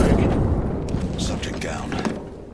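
A frag grenade thrown in the Apex Legends video game, heard as a dense, loud mechanical burst with booming low rumble and scattered metallic clicks throughout, overlaid with game voice chatter.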